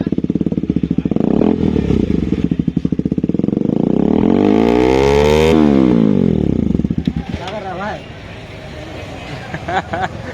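KTM Duke 200 motorcycle with a new aftermarket exhaust revving hard nearby, rising to a loud peak then dropping back to a burbling idle with sharp pops, while people talk over it.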